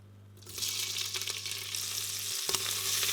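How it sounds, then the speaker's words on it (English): Bacon hitting a pan of hot olive oil over medium-high heat, bursting into loud, close, steady sizzling and frying with a brief stir partway through. "then in with some olive oil, and then we'll get the bacon straight into the pan."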